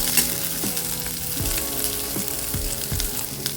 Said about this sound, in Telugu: ఆనియన్స్ వేగుతూ ఉన్నప్పుడే అల్లము వెల్లిపాయ అండి